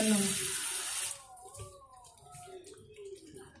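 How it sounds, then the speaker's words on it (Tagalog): Water splashes and pours briefly into a cooking pot of mung bean and vegetable stew, then stops, leaving a quiet room with faint clinks and soft background sounds. "Dagdagan pa po natin ng kaunti lamang po na tubig"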